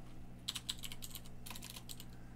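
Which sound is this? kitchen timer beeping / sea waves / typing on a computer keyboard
typing on a computer keyboard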